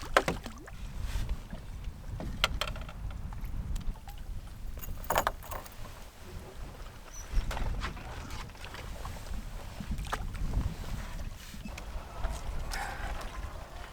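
Wind rushing over a Canadian wilderness lake during a canoe trip, steady low rumble with gusty microphone buffeting and occasional knocks and splashes from the canoe, no talking.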